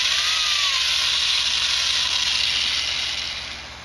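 A power drill fitted with a Forstner bit boring out the inside of a wooden Native American flute, giving a loud, steady high whine and hiss held for nearly four seconds before fading slightly at the end.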